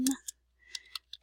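A few light, separate keystroke clicks on a computer keyboard, close and quiet, with short pauses between taps while someone types a search term into a research database.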